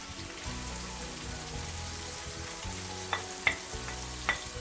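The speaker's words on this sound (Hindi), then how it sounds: "और अब मैं इसके साथ ही प्याज डाल दूंगी।" Chopped white onions sizzle steadily in a hot pan, a dense continuous frying hiss with a few sharper pops and crackles near the end, close and fairly loud with no talking.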